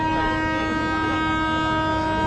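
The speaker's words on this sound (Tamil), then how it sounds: "இப்போது இந்த சிதம்பரம் ரயில்வே ஸ்டேஷனில் இருந்தும் ட்ரெயின் ஸ்டார்ட் ஆகிடுச்சுங்க" Chozhan Express superfast train starting out of Chidambaram station, a sustained horn-like tone over a loud steady rumble of the moving train.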